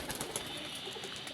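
Pigeons coo softly in a loft where young birds are being flown, a low, faint, repeated cooing under a steady background hiss, with no voices.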